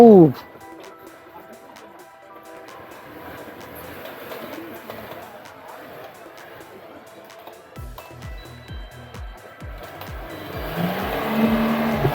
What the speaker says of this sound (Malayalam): അവിടെ നിന്ന് വണ്ടി നല്ലൊരു ചാട്ടം ചാടിയിട്ടുണ്ട് കേട്ടോ